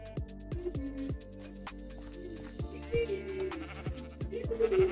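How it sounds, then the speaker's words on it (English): A sheep bleats repeatedly in Minecraft Bedrock 1.19 while stuck in a berry bush, short wavering cries close up, interrupted by sharp clicking game sounds. "Oh no, my sheep is gonna die in a berry."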